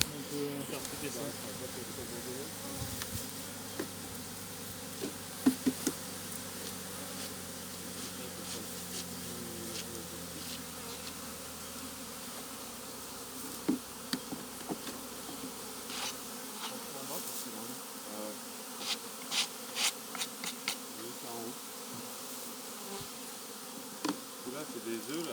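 Steady honeybee buzzing at a hive during honey harvesting, a dense insect hum that fills the whole stretch, with faint voices and occasional soft knocks in the background.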